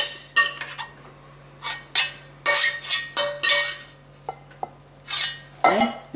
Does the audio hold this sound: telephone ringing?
no